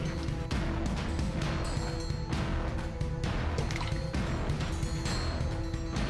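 Water is poured into a cup in a dense, continuous gurgling stream, broken by a few brief pauses, close and fairly loud, with no talking.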